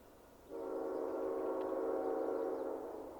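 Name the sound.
CN freight train blowing horn for crossing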